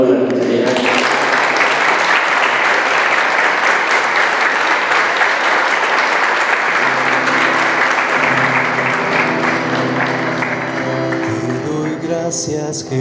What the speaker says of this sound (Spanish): Damos un aplauso a la gente.